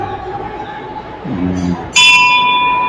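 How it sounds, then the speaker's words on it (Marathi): A temple bell at a famous Ganesh temple in Mulund is struck once and rings on with a bright, sustained shimmer. It follows a low murmur of background voices. "घंटा वाजला, बघितलं टायमिंग झाला बाप्पाचा."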